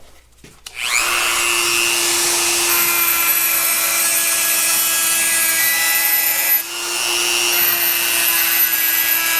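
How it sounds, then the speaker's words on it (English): A Dremel rotary tool with a round stone grinds the edge of a track bushing for a Caterpillar D2 track rebuild, a loud steady high whine that runs continuously after a brief start, dipping once before resuming. "we'll use that round stone on the Dremel"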